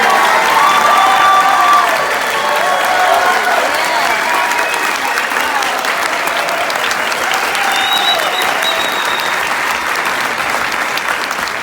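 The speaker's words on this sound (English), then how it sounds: "graduates, I want you guys to clap your hands and give them some love" Graduates at a college commencement ceremony applaud their mothers in a loud, continuous wave of clapping from a large crowd that holds steady for several seconds, with faint voices and cheers mixed in.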